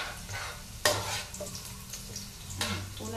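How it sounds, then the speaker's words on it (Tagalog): Garlic and onion sautéing in a pan: a continuous sizzle with repeated scraping stirs and a sharp utensil knock against the pan, close and fairly loud. "Ang ating bawang at sibuyas. Ayun na nga, igigisa na natin to."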